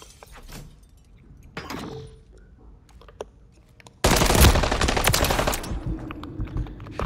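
Automatic gunfire from a Call of Duty MW3 ranked match: faint scattered shots and footsteps at first, then a sudden loud, sustained burst of rapid fire lasting several seconds.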